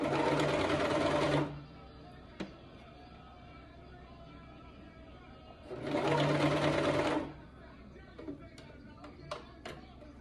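A Brother 2340CV coverstitch machine hemming spandex runs in two loud, steady bursts of about a second and a half each, separated by quiet with a few small clicks and taps.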